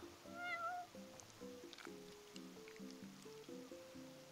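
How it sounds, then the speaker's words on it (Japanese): A cat in Final Fantasy XV meows in a short, clear, close call over soft, gently plinking background music. "この贅沢猫"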